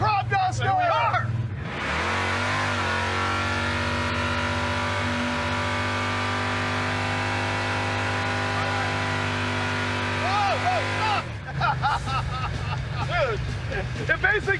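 The Crop Duster project car's engine runs steadily and loud for about ten seconds, a sustained drone with strong low harmonics, while people talk and cheer nearby before and after.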